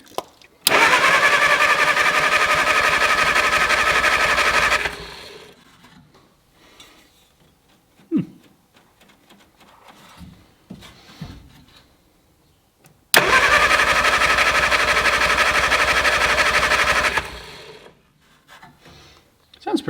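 An old, rusty Mini's engine is cranked with fuel poured in, in two long bursts of several seconds each. A fast, rhythmic whirring churns close by, with quiet pauses and faint sounds between the bursts.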